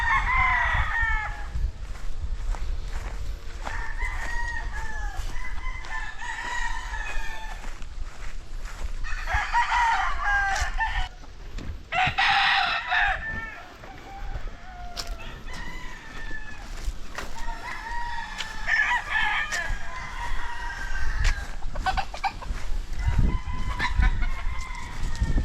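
Lemon 84 gamefowl roosters at a farm in Barili, Cebu, crowing repeatedly at close and middle distance over ongoing clucking and outdoor background noise.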